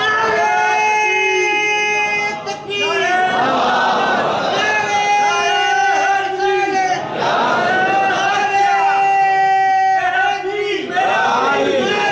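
A large crowd at a Sufi religious gathering chants slogans to Allah, the Prophet and the saint Ghaus Pak in loud, rhythmic call-and-response, sustained voices swelling and falling over an amplified backdrop.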